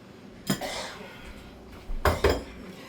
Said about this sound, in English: So I'm gonna take my beets and I'm just gonna put them in the oven.